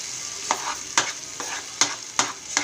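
Toor bean curry being stirred in a pan, the spoon scraping in six or so distinct strokes at a steady rhythm over a soft background sizzle, close and clear with no talking.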